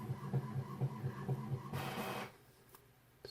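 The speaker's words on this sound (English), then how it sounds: "Sorry, my printer's printing something." A printer runs with steady mechanical pulses, then a brief whirring burst of paper feeding before it goes quiet, close by and fairly faint.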